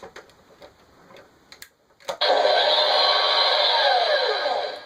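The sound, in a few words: toy jet cockpit opening sound effect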